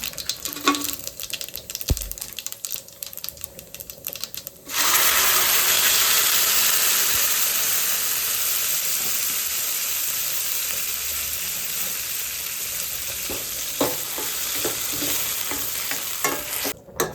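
Mustard seeds, cumin and whole spices hit hot oil for a home chicken curry, bursting into a loud, steady close sizzle after a few seconds of quieter clatter, then continuing with faint pops and stirring.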